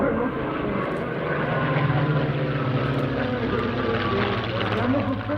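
Propeller-driven Spitfire fighter planes roar overhead in a steady, loud drone that swells slightly and holds throughout, with voices talking over it.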